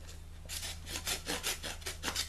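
A Fiskars 123010 saw blade cuts through a piece of soft wood with steady rasping back-and-forth strokes, close and fairly loud, about eight strokes in quick rhythm over a low steady hum.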